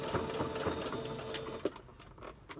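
A sewing machine runs steadily as it back-stitches a pleated fabric mask, its motor whirring close and continuous for most of the pass, then stopping abruptly, with a few light clicks afterward.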